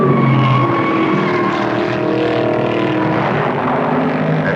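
Engines of 1970 Trans-Am race cars such as a Mustang, Camaro, Javelin and Barracuda roar loudly on a racetrack in a dense, continuous drone with overlapping engine notes.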